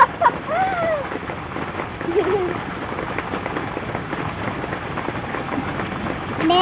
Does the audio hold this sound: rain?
yes